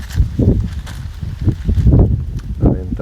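Wind buffets the area outdoors in gusty, close, low rumbling surges with uneven puffs, no talking.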